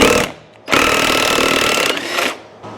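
A power tool, likely an impact wrench, spins off a worn 1-inch nut on a Harley Panhead four-speed kickstarter, with a loud rattling burst, a longer sustained run, then a short final bite, close up.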